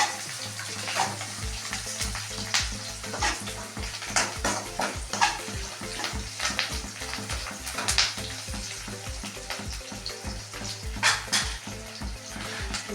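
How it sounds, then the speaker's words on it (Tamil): Onions sauté in a hot pan with a constant sizzle and sharp crackles. Scattered stirring clicks and a steady low rhythmic thump run beneath. "வெங்காயத்தை போட்டு நல்லா வதக்கிடலாம்"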